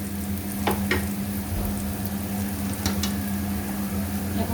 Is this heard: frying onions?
yes